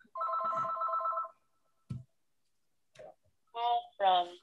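A telephone rings with a long electronic trill, then stops. A few clicks follow, and people talk faintly nearby.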